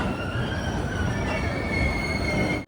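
A Madurai passenger train on the Rameswaram to Tirunelveli line runs on its rails with a loud, steady rumble and high squealing wheel tones throughout, then cuts off abruptly at the end.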